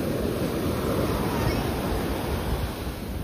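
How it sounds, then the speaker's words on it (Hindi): Ocean waves washing up on Calangute beach in Goa make a steady, loud roar of surf, with wind buffeting the microphone throughout and no break in the wash. "ये देखो हम जहाँ आ जाते हैं ना वहाँ तक लहरें आने शुरू होती है"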